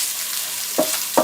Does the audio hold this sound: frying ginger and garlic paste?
yes